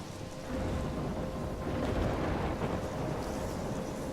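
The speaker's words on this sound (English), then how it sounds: "I'm trapped in a storm?" Dense rain and rumbling thunder in Life Is Strange, a steady loud wash of downpour with a low stormy roar throughout, no speech.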